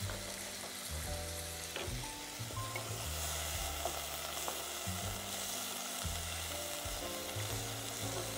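Tomato sauce for rainbow lasagne simmers in a pan with a steady, moderate bubbling sizzle, joined by a faint low hum that comes and goes.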